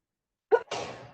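A single person sneezes in a quiet courtroom: a brief sharp intake followed by a breathy, fading burst of air, close and alone.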